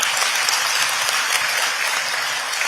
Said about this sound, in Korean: 감사의 박수 한번 더 주십시오